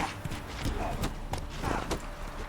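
Horse hooves clip-clop at a steady walk across open ground in Velen in The Witcher 3: Wild Hunt, about half a dozen close, evenly spaced thuds over soft ambient background.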